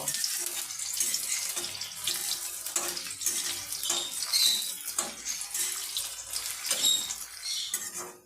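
Onions frying in hot mustard oil in a home kitchen, a steady hissing sizzle with faint clinks of a utensil against the pan, close and continuous throughout.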